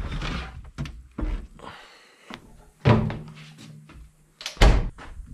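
A new vehicle door that opens almost all the way, swung open and shut with several loud thuds and slams spread across a few seconds, close by, with brief rustling between.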